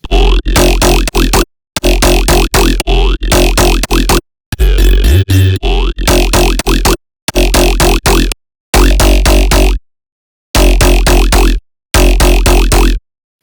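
Growly, talking formant synth bass made in Serum 2 with a formant filter and downsampling, for jump up, neurofunk or dubstep, loud rhythmic bursts of vowel-like snarling notes in repeated phrases separated by short silences.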